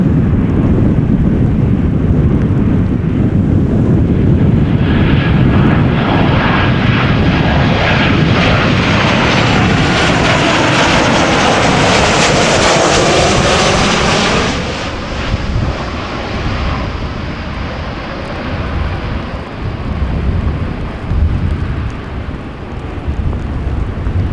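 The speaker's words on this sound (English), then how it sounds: "Next up is a KLM 737-800 arriving from Paris Charles de Gaulle" KLM Boeing 737-800 landing at Amsterdam Schiphol during a storm: loud, close jet roar swells and passes over about fifteen seconds, then fades into heavy gusting wind noise.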